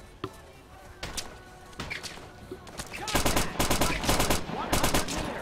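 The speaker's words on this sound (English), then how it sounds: "Shots fired!" Gunfire during a special forces military training exercise: scattered single shots at first, then rapid, loud volleys of automatic fire in quick repeated bursts, fairly close.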